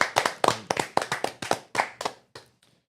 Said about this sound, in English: So let's give a round of Thank you applause